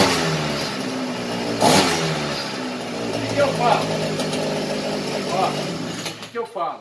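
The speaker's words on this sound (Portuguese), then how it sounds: "Vamos dar partida nesse motor? Vamos ver se vai funcionar." A small outboard engine on a Samurai kayak sputters to life, then runs and revs up and down with an uneven, buzzing drone, close by.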